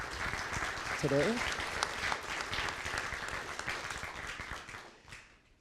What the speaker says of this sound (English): now let's give him a warm round of applause for being here